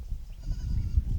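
A goat bleats low and muffled among sheep and goats on a livestock farm, a steady nearby call under faint rumbling background noise.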